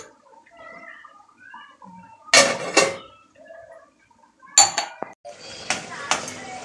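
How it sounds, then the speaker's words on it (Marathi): A lid goes onto a pot of potatoes cooking on the stove, making a couple of sharp metallic clanks followed later by further clinks and rattles, with quiet background noise between. "वरती झाकण घालून घेऊया।"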